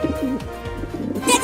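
A pigeon coos softly in low, throaty bursts, close by, with a brief higher chirp near the end.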